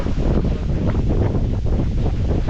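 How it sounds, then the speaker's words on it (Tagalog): Strong wind buffets the microphone with a constant loud roaring rumble, steady throughout with no voices. "ah sarap ng hangin"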